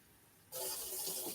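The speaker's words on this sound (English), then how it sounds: "I'm gonna put my 8 cups of water in here." Eight cups of water pour into a container, a steady close rush of running water starting abruptly after a brief quiet moment and continuing evenly.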